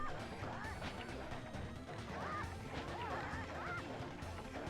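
Chicken and rooster clucks and squawks in the Sly Cooper video game, several short rising calls over a busy, loud game soundscape with no talking.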